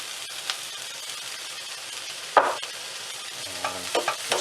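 Fresh and rehydrated dried mushrooms with shallots sizzling in a pan, a constant low frying hiss with a sharp spatula scrape and a few clinks of the pan near the end.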